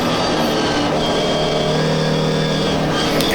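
An MGB race car's engine drones loud and steady after a shift into second gear, racing at the Silverstone GP circuit, with a dense mid-range roar and continuous harmonic whine throughout.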